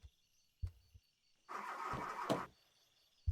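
A car engine in the driving game The Long Drive roars briefly as the gas is pressed, a burst of revving for about a second between short low thumps, with no talking.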